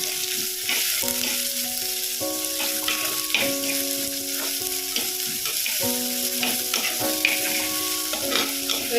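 Shallots and green chillies sautéing with ginger and garlic in hot oil, giving a steady close sizzle with occasional stirring scrapes and soft melodic music playing underneath.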